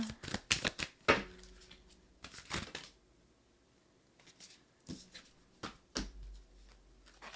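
Tarot cards shuffled and drawn by hand, with quick riffling bursts near the start, then softer flicks and slides of cards at close range in a quiet room.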